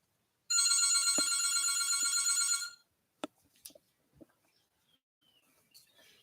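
A telephone rings loudly and continuously for about two seconds, then stops, followed by a few sharp clicks and light handling taps in an otherwise quiet room.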